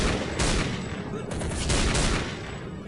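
Counter-Strike Condition Zero gunfire sounds as dense, rapid bursts of shots in a loud, continuous volley, with a voice faintly mixed underneath.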